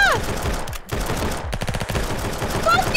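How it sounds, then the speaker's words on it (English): Gunfire in the shooter game Valorant rattles off in rapid automatic bursts, loud and continuous through most of the moment, with no talking. "Do you like how much ammo that gun has?"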